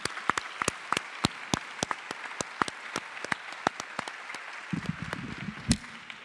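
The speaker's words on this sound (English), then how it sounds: "Let's give a big applause to Ms. Guru, Mrs. Anu Radha Nayampalli." Audience applause at an award presentation: sparse, individual hand claps ringing out irregularly across the hall, fairly close and moderate in level, with a brief low rumble of handling noise near the end.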